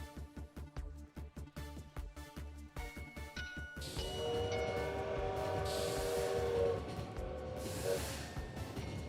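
A train rushes past in the video game Lobotomy Corporation, loud rattling rumble and horn tones swelling after a stretch of rhythmic ticking game sounds.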